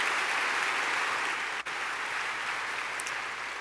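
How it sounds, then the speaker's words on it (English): Steady applause from an audience at a city State of the City event in Long Beach, continuous and moderately distant, with one brief dropout partway through and no talking. "Let's give Michaela Lee and Richard Bermudez another round of applause for their amazing performance"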